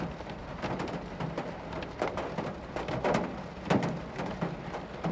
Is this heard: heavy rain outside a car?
yes